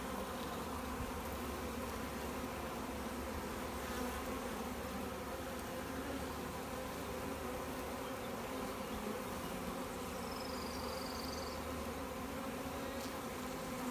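A caught honeybee swarm buzzes as a dense, steady, close drone of many wings, unbroken throughout.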